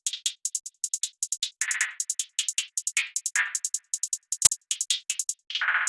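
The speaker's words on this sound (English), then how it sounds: "triplet hi-hats pattern." Crisp hi-hats ticking in quick triplet groupings for a rage-style beat made in FL Studio, with occasional brighter open hits and a single sharp snap, all dry and up front.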